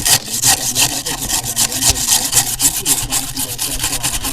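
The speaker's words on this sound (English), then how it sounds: "taking the rust off" Rusty metal with caked-on, raised rust is scrubbed with white vinegar, a loud rhythmic back-and-forth rasping that repeats steadily and close up, with no talking.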